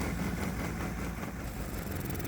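A 212cc Predator small engine runs on the last of the fuel in its carburetor float chamber, a fairly quiet, even mechanical putter heard steadily throughout.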